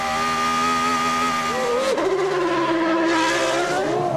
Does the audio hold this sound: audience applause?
no